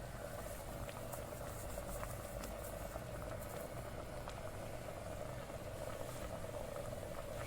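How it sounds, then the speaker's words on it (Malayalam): Chana dal curry bubbling steadily in a pot on the stove, a continuous close simmering hiss with soft popping and no voices. "ഒന്ന് തിളച്ചോട്ടെ"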